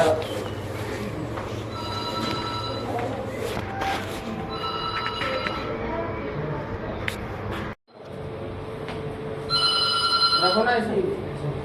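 A telephone rings in repeated electronic bursts beneath ongoing talk and household noise, pausing briefly before ringing again more loudly.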